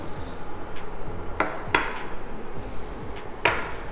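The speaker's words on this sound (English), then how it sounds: "We will put them in a preheated pan" Cumin and coriander seeds go into a preheated pan for dry roasting while Uzbek chicken plov is cooked, giving a few sharp metallic clinks and light rattling against quiet background hiss.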